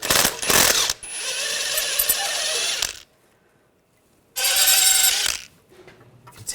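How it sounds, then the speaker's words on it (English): Ratchet with a 7mm hex socket spinning out rear brake caliper bolts on a 2000-2006 BMW X5, two loud close bursts of rapid clicking separated by a short quiet gap. "Now we're going to use a 7mm hex socket."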